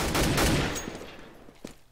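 A headshot gunshot in Counter-Strike on de_inferno during a mousesports vs 3DMAX match: one loud, close burst of gunfire at the start that quickly fades into dull background game noise.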